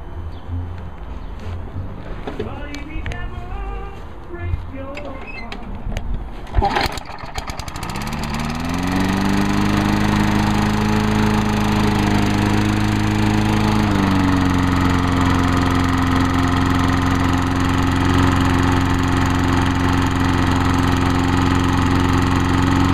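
A lawn mower engine with a governor problem that makes it slow down starts up after some faint clattering, then runs at a loud, steady drone close by, with a slight drop in pitch partway through.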